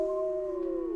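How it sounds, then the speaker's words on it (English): A wolf pack in the video game WolfQuest howls together in a long, loud, sustained tone that slides slowly downward with no talking. "as the pack howls together"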